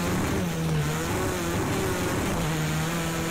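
A rallycross car engine in Project CARS 2 drones loudly and continuously, its pitch rising and dipping slightly as it revs, with no talk.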